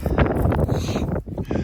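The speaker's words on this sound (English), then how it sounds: "It's windy out here" Gusty wind buffets the microphone outdoors in a yard, a rough loud rumble that briefly drops before surging again.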